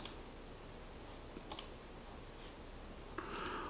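A computer mouse clicking, two or three sharp, quiet clicks spaced apart over a faint room hiss, with no talking.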